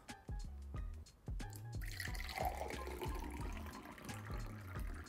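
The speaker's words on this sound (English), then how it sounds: "First, we'll pour a wee glass." Fresh apple juice poured from a jug into a small glass, a steady liquid trickle with repeated dripping and glugging pulses, close and clear with no talk.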